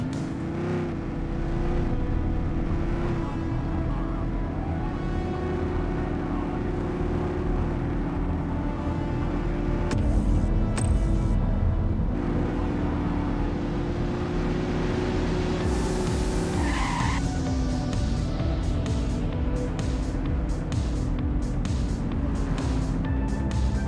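A car engine drones steadily and revs loudly through a police car chase in The Precinct, with a brief pitch shift and screech-like sweep partway through, continuous and close.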